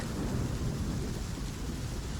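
Heavy rain pours steadily beneath a low rolling rumble of thunder in an audiobook sound effect, dense and continuous throughout, with no voice over it.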